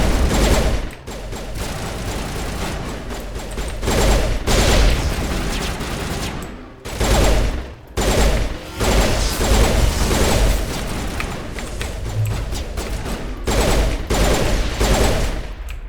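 Sustained video game gunfire from Mass Effect, bursts of rapid mechanical shots fired against husk enemies, loud and close with brief pauses between volleys and no talk over it.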